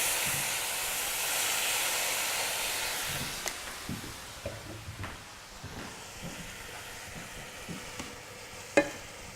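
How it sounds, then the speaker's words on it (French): Food cooks gently with a splash of water in a stainless steel pan, a soft steamy hiss and faint simmer fading down, with scattered quiet clicks and one sharp utensil knock near the end. "J'ai une légère petite ébullition. Ça cuit tranquillement."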